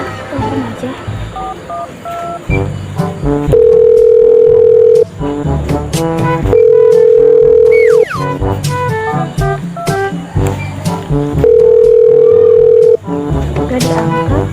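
Repeated telephone ringback tone on an unanswered call, long steady beeps recurring at intervals over music and other sounds in the background.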